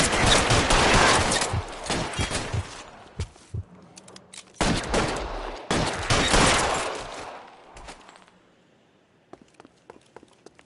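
Gunfire rattles through a shootout in L.A. Noire, with dense bursts of rapid shots in two heavy volleys separated by brief pauses, then tapering to a few scattered faint pops.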